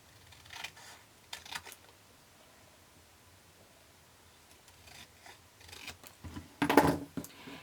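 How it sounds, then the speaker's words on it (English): Scissors snip through card along pencil-marked lines in a few short, close bursts separated by quiet pauses, with a louder cluster of cuts near the end. "And then I'm going to cut along those lines."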